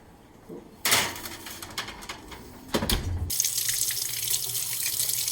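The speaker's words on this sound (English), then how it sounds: "We're washing the tomatoes" Tomatoes washed under a running kitchen tap, with a few clattering knocks and bursts of splashing water before a steady, close stream of flowing water settles in for the last couple of seconds.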